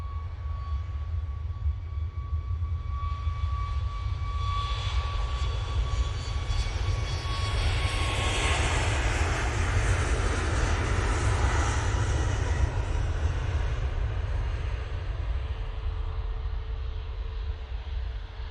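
A Ryanair jet airliner departs for Vienna, a loud, continuous engine roar with a steady whine that swells toward the middle as it passes, then slowly eases while staying strong.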